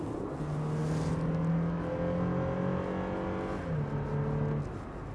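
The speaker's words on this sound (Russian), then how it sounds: "Слушай, ну реально, рев прям стоит мощный." A 2019 Toyota Land Cruiser Prado, a body-on-frame SUV, gives a steady engine roar with a strong low hum that rises and then eases slightly, heard from inside or near the vehicle for several seconds with no talk.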